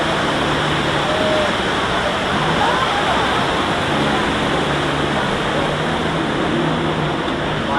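Simulated flash-flood water on the Universal Studios tour, a loud and continuous roaring rush that fills the whole stretch, with faint crowd voices mixed underneath.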